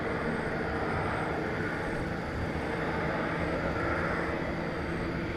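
British Airways A380 airliner at DFW Airport, a steady broadband jet engine roar holding even and fairly loud throughout, with a faint high whine riding above the rumble.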